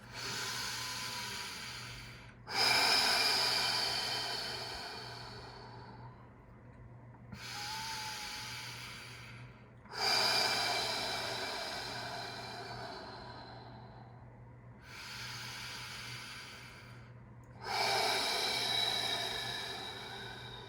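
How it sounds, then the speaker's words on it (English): Slow, deep breaths during a yin yoga posture: three long hissing exhalations spaced about seven seconds apart, each fading gradually, quiet and close over a low steady hum, with no speech. "let's see how deeply we can breathe through this posture"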